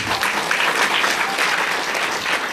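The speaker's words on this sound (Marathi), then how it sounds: "इतक्या जोऱ्यात टाळ्या झाल्या पाहिजे" A crowd at the end of a pilgrimage applauds loudly and continuously, dense clapping holding an even level throughout with no pauses.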